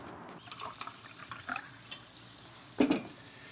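Mineral water is poured into a glass in short, quiet splashes and faint clinks, ending in a louder gurgling burst near the end.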